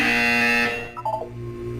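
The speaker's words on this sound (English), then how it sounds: "You will hear a buzzer." A harsh, loud electronic buzzer from the video game Portal 2 sounds for under a second, then cuts off, followed by a few short tonal chirps.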